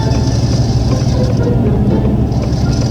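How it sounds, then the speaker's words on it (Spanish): Remote-controlled toy car carrying a loose jar across a bumpy road, giving a loud, steady rumbling motor hum with rattling, continuous and close with no talk. "Pusimos un frasco suelto en la parte trasera de este carro a control remoto, esperando que el camino accidentado la activara."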